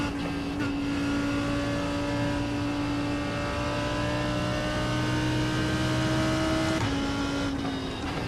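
A race car engine in the iRacing sim drones at low revs in third gear, a steady, dense, sustained tone that holds level and dips slightly near the end, with no talking.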